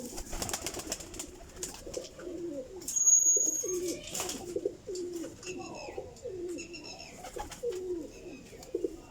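High-flying pigeons coo in soft, repeated bursts close by, with a few higher chirps and someone talking over them at intervals.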